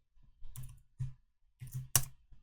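Clicks of keys on a computer keyboard as a short database query is typed, close and quiet, in a few uneven bursts with pauses between.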